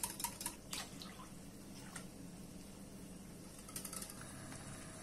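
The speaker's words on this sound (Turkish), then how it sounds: "Daha sonra üzerine 2 klasik su bardağı içme suyu ekliyorum." Drinking water is poured into a pot of chard soup, giving a close splashing trickle with a few louder gurgling bursts at the start, steady and moderate, with no talking.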